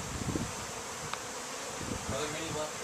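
Honey bees from newly arrived package colonies, sprayed and clinging to their box, buzz in a steady drone with a few louder passes close by, set against faint outdoor background noise.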